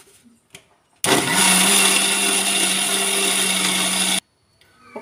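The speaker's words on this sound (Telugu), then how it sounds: "మిక్సీ ఒక రౌండ్ వేసుకోవాలండి." A mixer grinder blends carrot, wheat flour and milk in one loud, continuous burst of about three seconds. It starts and stops abruptly, with faint kitchen sounds before and after.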